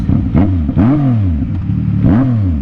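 A Suzuki GSX-R1000 motorcycle engine is revved three times in quick blips, each a rising then falling whine, loud and close over a rough idle.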